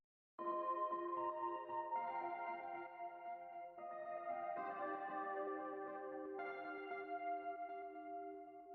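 A melodic chord sample soaked in wet, lush reverb with cassette-style decay and pan movement, sustained tones shifting every second or so, loud and smooth with soft tails, no voices.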